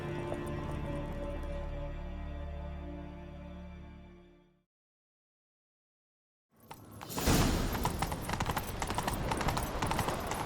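Hooves clip-clop rapidly as a horse gallops in The Witcher 3: Wild Hunt, loud and close, following a fading musical passage and a brief silence.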